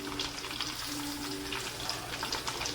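Garlic, ginger, green chilli and curry leaves fry in a pan for a fish head curry, giving a steady, close hiss with light stirring scrapes throughout, no talk.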